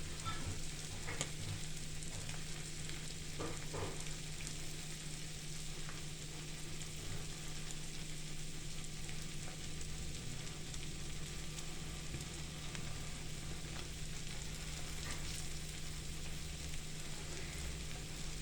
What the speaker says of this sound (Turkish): böyle bir tava daha kızartayım dedim.